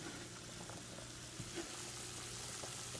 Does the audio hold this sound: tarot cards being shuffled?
no